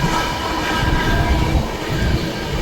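The Patna Express from Ernakulam to Varanasi rumbles along the rails, a steady close-up rolling roar with faint clatter heard from on board, no voices.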